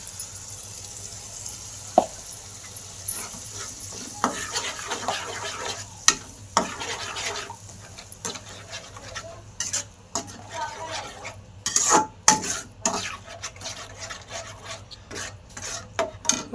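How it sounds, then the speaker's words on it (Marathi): Spice masala frying and being stirred in hot oil for a soybean masala curry, with a soft continuous sizzle under repeated scraping strokes of a spoon against the pan, close and moderately loud. "आता मिरची ते तळून झाला तर आपण मसाला तळून घेऊ."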